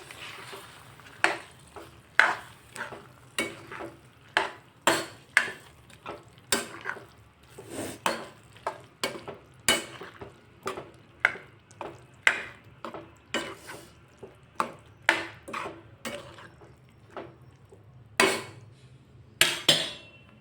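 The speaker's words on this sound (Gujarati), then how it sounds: "હવે આપણે બધું જ મિક્સ કરી દઈશું" Black-eyed peas, boiled and then added to a Gujarati-style curry, are stirred in a pot with a utensil, producing repeated clinks and scrapes against the metal in an irregular rhythm. The sound is close and there is no talking.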